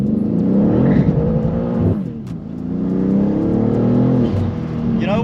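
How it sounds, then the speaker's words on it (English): A BMW M2 G87 launches from a standstill with stability control off, its engine note loud and close, climbing in pitch, dipping briefly at a gear change, then building again. "we'll just try a little DSC off from standstill and see what happens."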